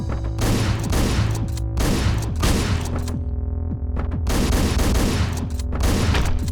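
Dense gunfire in the Hotline Miami video game, rapid overlapping shots in loud bursts with short gaps, harsh and close throughout.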